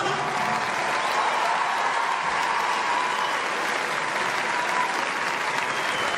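A large audience applauds steadily after a film screening of Kaizen, a dense sustained wash of clapping throughout with a few cheers mixed in.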